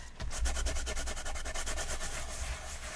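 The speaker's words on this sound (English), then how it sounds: "I'm just going to quickly wipe off the little extra bit that might still be on here." A cloth rubbed quickly back and forth over a card surface freshly coated with Distress Archival ink, giving a rapid, even series of soft scratchy strokes close up.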